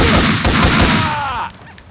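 Dense rapid gunfire from the video game Max Payne 2, a loud sustained fusillade of overlapping shots that drops off sharply near the end, leaving a few faint echoes and tail sounds.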